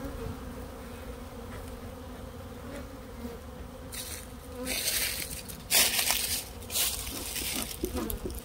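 A dense, continuous buzz of honeybees swarming around a large, aggressive backyard beehive, close and steady throughout, with some louder rustling and handling noises toward the end.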